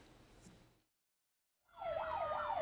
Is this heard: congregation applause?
no